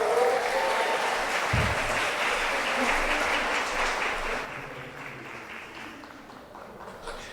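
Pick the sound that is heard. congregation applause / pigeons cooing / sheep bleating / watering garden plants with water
congregation applause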